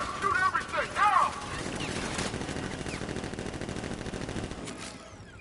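Rapid automatic gunfire from guards in the Batman Arkham Knight video game, a dense rattling burst of shots at moderate loudness, mixed with game voices and effects.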